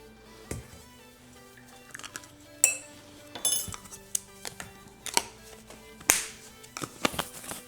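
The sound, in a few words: mixing strawberry cake batter in a bowl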